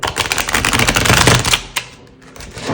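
Tarot cards being shuffled, a dense run of quick papery riffling clicks for about a second and a half, close and fairly loud, then a single soft slap as the deck settles and quiet follows.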